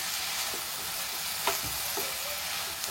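Tofu and chive flowers stir-frying in a pan, with a steady oily sizzle and a few scraping stirs of a spatula, close and unaccompanied.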